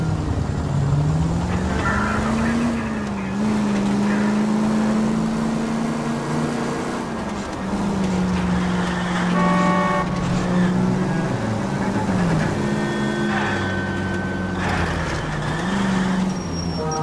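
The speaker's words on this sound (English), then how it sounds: "That's the car, Cole. Just pulling out of the drive." A car pulls out of a driveway in the video game L.A. Noire. Its engine hums steadily and wavers in pitch as it moves off, and there is street noise and a few tonal game sounds behind it.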